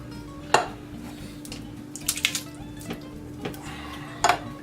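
Tomato sauce and Ro-Tel are stirred in a pot over medium heat, with a spoon clinking against the metal in a few sharp, separate knocks over a quiet background bubble.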